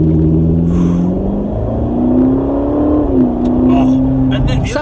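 A Ferrari California T sports car engine hums and revs steadily up close, its pitch rising and shifting, with speech underneath.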